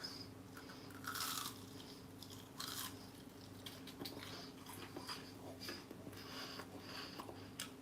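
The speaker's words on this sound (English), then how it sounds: "listen to this crunch, people" Someone bites into freshly cooked homemade food. A quiet, close crunch comes in two short bursts, then softer chewing follows in a hushed room.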